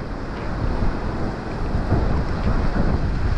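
Gale-force wind roars continuously on the Paphos seafront, a dense low rumble buffeting the microphone with gusts swelling and easing over a few seconds, with a hint of surf beneath.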